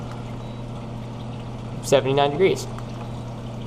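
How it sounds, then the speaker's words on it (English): A Maxi-Jet pump pushes water through a reactor in a 90-gallon aquarium sump, making a steady low hum and gentle water rush throughout, while someone speaks briefly over it. "I have one of my Maxi jet pumps pumping water through my reactor"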